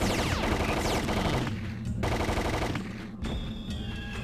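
Rapid automatic gunfire in the game Captain Quazar, loud rattling bursts that stop briefly midway, then resume, ending in a few scattered shots with electronic tones.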